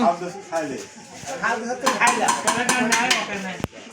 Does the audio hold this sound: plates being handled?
yes